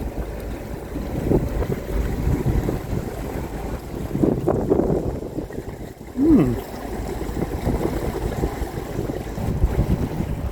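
Strong, cold wind on a boat buffets the microphone with a constant low roar and gusts, over faint water and boat noise.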